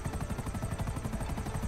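A video game helicopter flies with a fast, steady rotor chop, loud and close, its rhythmic thudding pulses continuing unbroken.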